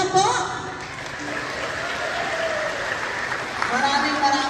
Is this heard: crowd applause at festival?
yes